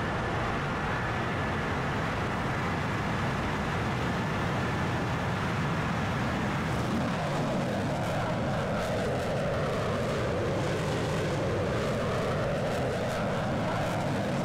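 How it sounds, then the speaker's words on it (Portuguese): A military aircraft taking off in a simulation video game, heard as a loud, continuous engine roar that swells and changes pitch over several seconds. "Acompanhar a decolagem dele aqui."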